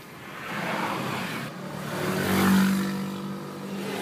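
Car traffic crawls along the ring road in Manado, a continuous wash of engine noise swelling as a vehicle passes nearby, with a brief horn-like tone in the middle.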